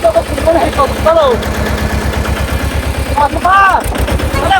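A tractor engine idles with a steady, rapid low thumping that runs throughout, while people talk loudly over it.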